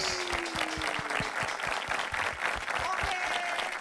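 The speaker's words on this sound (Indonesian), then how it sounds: "berikan tepuk tangan paling meriah untuk Sumber Mas Jaya dan Dulux" Applause from an audience at the launch of a Dulux paint store, a steady burst of clapping that carries on under music and a speaker's voice for a few seconds.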